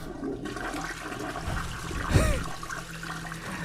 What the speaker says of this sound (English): suddenly I heard the toilet flushing by itself.